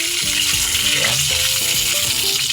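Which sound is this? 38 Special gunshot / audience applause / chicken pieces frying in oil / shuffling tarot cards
chicken pieces frying in oil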